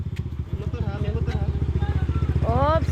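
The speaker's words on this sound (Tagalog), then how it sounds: "May motor pa." Motorcycle engine running in a narrow alley, a loud, steady pulsing drone close by with the pitch rising near the end, while people talk over it.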